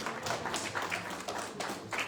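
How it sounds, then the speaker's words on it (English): An audience applauding at a business opportunity presentation, a brief burst of dense clapping that stays loud and even, with scattered voices faintly mixed in. "give them a round of applause"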